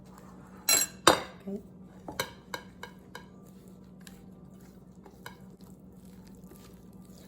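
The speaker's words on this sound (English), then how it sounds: "Now we are going to go ahead and mix the dry into the liquid" Dry flour mixture is stirred slowly into wet banana bread batter in a bowl, a couple of spoonfuls at a time, with a few sharp utensil clinks against the bowl early on, then softer scraping taps fading out; a brief word is spoken.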